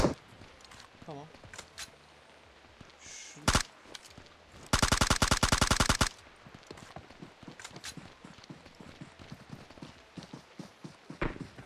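Gunfire in the video game PUBG: scattered single shots, one dense rapid automatic burst in the middle, and a few sharp close cracks, mixed with footsteps and moderately loud under players talking.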